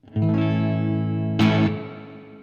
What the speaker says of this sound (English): just some spring reverb from the amp